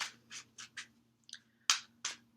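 Tarot cards are shuffled by hand in quiet bursts, about seven soft riffling swishes and taps spaced unevenly, close and faint with no talking.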